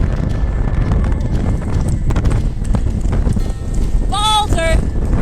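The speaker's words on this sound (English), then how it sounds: "Chasing that horse at 30 miles per hour" A horse galloping at speed on a road alongside a pickup truck, its hoofbeats mixed into loud wind and vehicle noise, with a short, sharp horn-like tonal cry near the end.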